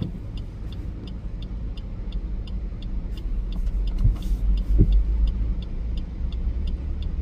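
Cars rumble along a flooded road in Devgad during heavy rain, a steady low engine drone that swells as a vehicle nears, with a faint rapid ticking above it.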